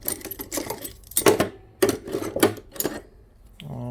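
Metal hand tools clink and rattle as someone rummages for needle nose pliers while working on a Cub Cadet mower, several sharp close jangles in uneven bursts with no talking.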